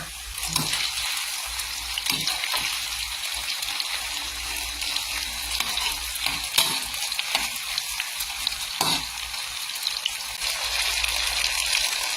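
Pork belly frying in oil gives a steady, close hiss of bubbling fat, with occasional louder pops and faint clicks while it sizzles alone.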